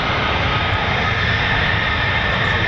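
A USAF fighter jet, an F-15E Strike Eagle or F-35A Lightning of the 48th Fighter Wing, roars loudly and continuously during takeoff at an airshow at an RAF base, its broad engine noise filling the whole stretch.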